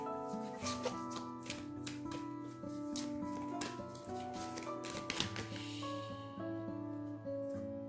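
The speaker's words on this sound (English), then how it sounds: "That's a lot of shuffling." Tarot cards shuffled again and again in quick riffling bursts, close and crisp, over soft background music with sustained tones.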